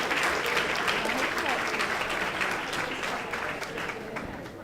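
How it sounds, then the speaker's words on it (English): An audience at a wine tasting fundraiser applauds Greg Street. The clapping is full and sustained, tapering slightly toward the end, with faint voices mixed in. "Please give a round of applause for Greg Street."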